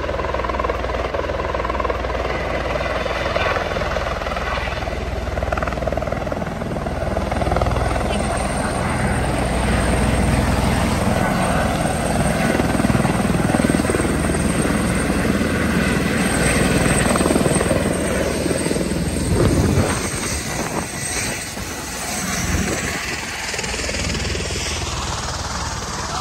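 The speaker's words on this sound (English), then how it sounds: "Turning on the helicopter?" A helicopter engine runs loud and steady, dense rotor and turbine roar filling the whole stretch, with voices faintly audible beneath it before a short dip and swell near the end.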